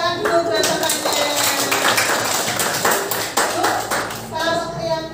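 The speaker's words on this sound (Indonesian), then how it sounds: "Ya, tepuk tangan dulu buat temannya." Schoolchildren in a classroom clap for a classmate, a loud, brisk burst of many small hands sustained throughout, with children's voices mixed in and rising near the end.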